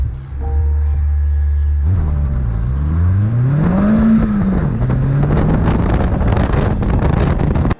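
A 330 bhp, 945 kg Vauxhall VX220 Turbo launches from about 2,500 RPM on a timed 0-60 mph run, its engine note climbing loud and close through the gears over heavy wind buffeting.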